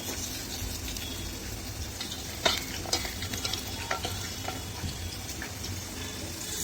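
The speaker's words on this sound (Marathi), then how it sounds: "लसूण भाजतं मग लसूण गोल्डन भाजले" Garlic frying in oil in a pan while arbi bhaji is being made, a steady close sizzle running throughout with occasional louder crackles and stirring scrapes, and no talking.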